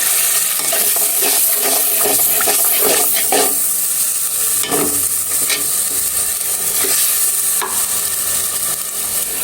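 Water splashed into ginger-garlic paste frying in a pan sends up a loud, steady sizzling hiss, broken by scraping stirs, with no voices.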